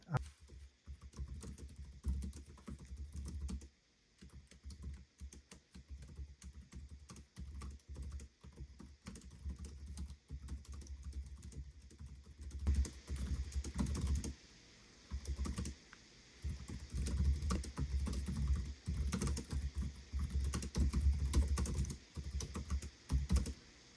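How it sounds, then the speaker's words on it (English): Rapid clicking keystrokes on the keyboard of an ASUS ProArt PX13 13.3-inch 2-in-1 laptop, a dense snappy patter with brief pauses, heard up close. "Yep, it's a nice keyboard, nice and snappy."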